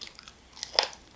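Chicken with wild rice and corn being chewed up close, a quiet crunchy bite standing out briefly among soft mouth sounds, with no talking.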